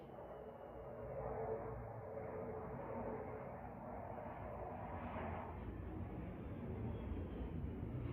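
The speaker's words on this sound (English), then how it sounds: "We get a jet flyover for our end of class." Jet aircraft passing overhead during an outdoor gentle yoga flow class, a continuous low broadband roar that stays steady and moderately distant, with no talking.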